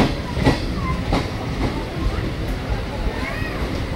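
A passing train on a railway line, loud and close, with rumbling wagons and rhythmic wheel clatter and a faint squeal, while people talk over it.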